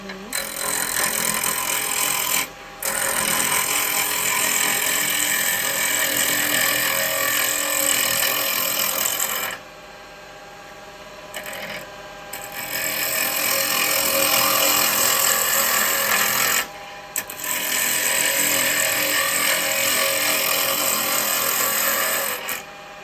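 Woodturning lathe with a tool cutting into spinning wood, a loud dense grinding rasp running in long stretches broken by brief pauses and a quieter gap, close and without talk.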